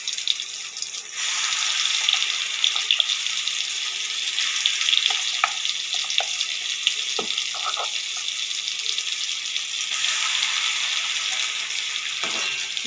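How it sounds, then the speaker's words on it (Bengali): Grated carrot fries in hot ghee, giving a continuous soft sizzle with occasional small crackles and stirring clicks, steady and fairly close. "ঘি দিয়ে একটু ভেজে নেব গাজরটা"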